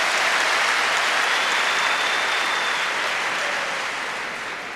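Students at a large gathering of over 2,000 Rwandan youth meeting President Kagame give sustained, dense applause that holds steady and then gradually tapers toward the end.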